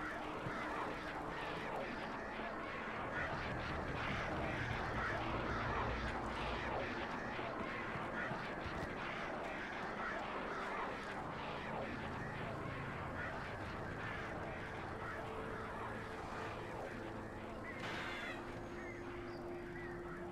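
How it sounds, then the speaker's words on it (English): Birds honk and call throughout a dense, steady game soundscape in Alan Wake, goose-like cries layered over ambient noise with faint speech mixed in. "I see you, birds."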